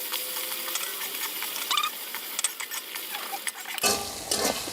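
Ginger, cumin and garam masala paste is stirred in a pot for mutton kachchi biryani, with a soft sizzle under scraping and clinking of a spoon, growing busier toward the end.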